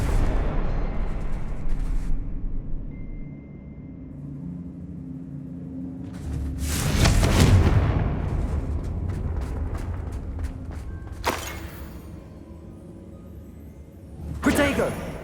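A Confringo fire spell bursts in Hogwarts Legacy, a loud whooshing blast followed by a rumbling fade, then sharper crackling impacts and another fiery burst near the end, over steady game ambience.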